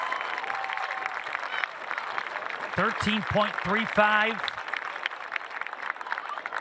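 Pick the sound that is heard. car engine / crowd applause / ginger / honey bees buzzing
crowd applause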